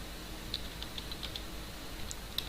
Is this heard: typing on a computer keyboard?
yes